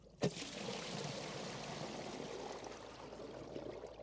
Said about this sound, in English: What you can do is you can open the door back up, let that splurge of water come in.